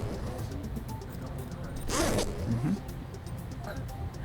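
A zipper is pulled open on a stuffed toy in a classroom physiology demonstration, a single rasping zip of roughly half a second that stands out clearly over low room noise and faint background voices.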